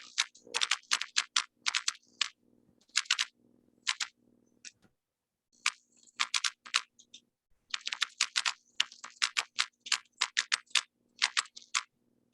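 Close, crisp computer keyboard typing comes in quick bursts of keystrokes separated by short pauses, with faint background hum.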